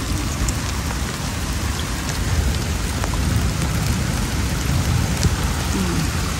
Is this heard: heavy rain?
yes